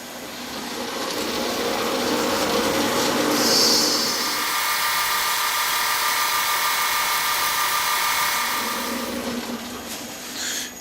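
A morse taper turning on a lathe while being polished with oiled abrasive gives a steady, fairly loud whirring rub with a sustained high hum, rising briefly partway through, and no talk.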